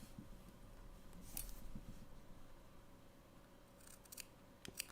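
Scissors trim felt for a handmade gingerbread ornament, giving a few quiet, crisp snips close by over a soft background, with no talking.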